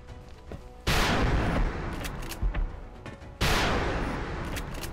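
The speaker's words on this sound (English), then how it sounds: "Rapid fire." Bursts of rapid gunfire from an XCOM Long War battle on a waterfront terror mission, two loud sustained volleys with a brief pause between them and no talk over them.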